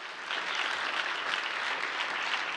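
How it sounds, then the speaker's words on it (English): Audience applause at a healthcare technology conference, a steady dense wash of clapping that holds evenly for the whole stretch, moderately loud and uninterrupted, with no voices over it. "So give it an applause."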